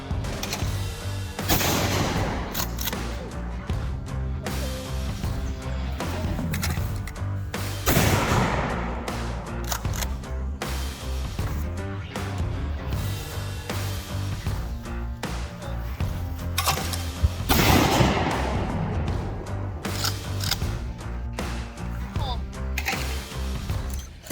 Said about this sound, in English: Everybody knows how to shoot skeet, right?